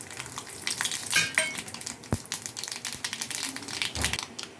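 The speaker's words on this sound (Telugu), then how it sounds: "తాలింపులు వేసుకున్నాం ఫ్రెండ్స్." Tempering spices, dried red chillies among them, crackle and sizzle in hot oil in a kadai, with frequent close clinks and scrapes of a metal utensil against the pan and no talking.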